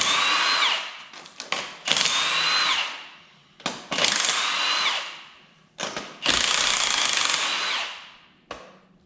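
A power tool on an LS engine cylinder head loosens head bolts in sequence, running in several loud, close bursts of high whine and chatter separated by short pauses.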